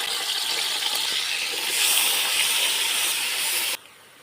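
A small onion hits a quarter cup of hot cooking oil for chicken macaroni, releasing a loud, steady, hissing sizzle that swells slightly midway and then drops abruptly to a quieter hiss near the end.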